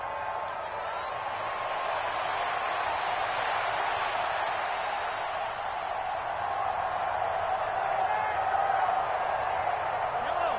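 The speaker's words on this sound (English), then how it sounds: "Well, this crowd trying to force a false start here." Stadium crowd noise from the Madden NFL 24 football video game forms a steady, broad roar throughout, building slightly toward the end as the crowd tries to force a false start.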